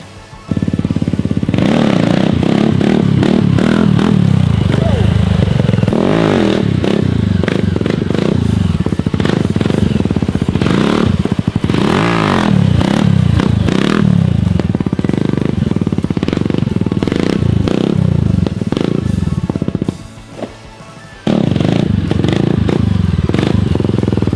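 Kayo A300 sport quad engine running loud and close for about twenty seconds, a steady rough revving drone with throttle swells and rattling, briefly dropping near the end before picking back up.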